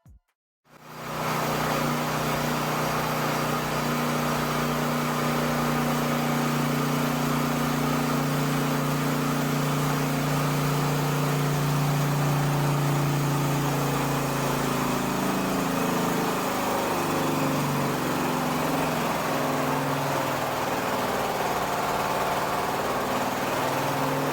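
A Predator clone small engine runs on a dyno. After a brief silence it settles into a loud, steady, unbroken drone that holds for the full stretch, with no talk.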